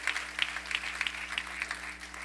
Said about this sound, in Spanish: darle un aplauso al Señor